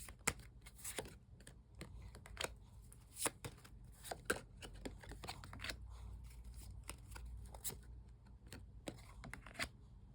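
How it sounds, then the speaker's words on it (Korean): Tarot cards being shuffled and drawn give a run of soft, crisp flicks and taps at close range, irregular and steady throughout, with no speech. "그러면 앞으로 이 관계가 어떻게 잘 될지 마지막으로 카드 뽑아볼게요."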